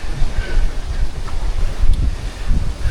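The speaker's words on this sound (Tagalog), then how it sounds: "lumalakas na rin yung hangin at baka lumakas yung alon." Strong wind buffets the microphone steadily over a low, rumbling roar of surf crashing on a rocky island shore, with no clear voices.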